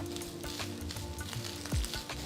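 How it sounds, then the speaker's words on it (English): Freshly grated coconut toasting in ghee in a pan, giving a soft, steady sizzle close by with a few stirring scrapes and a brief low thump near the end. "So next I'm going to toast the coconut."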